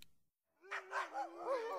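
Dogs in a yard bark and yelp in an audio story, starting after a brief silence with a rising whine, then several loud, close barks overlapping in quick succession.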